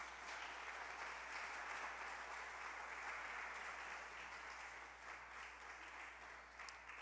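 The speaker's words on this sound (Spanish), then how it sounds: "¿Cuánto le puede dar un fuerte aplauso a Jesús?" A church congregation gives steady, sustained applause during an evening sermon service, heard as a distant, even wash of clapping at low level.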